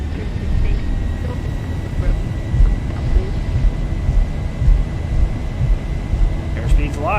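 Simulated Zibo Boeing 737 engines spool up for a takeoff roll in X-Plane 11, a steady loud low rumble with a constant whine, with a voice speaking over it.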